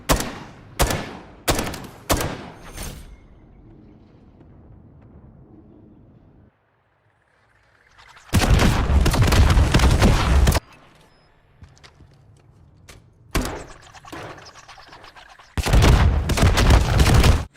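Grenade launcher tube in Modern Warfare III on the Quarry map, fired from a rooftop into the enemy spawn: a string of sharp blasts, then two long, loud roaring bursts separated by quieter gaps and a few single hits.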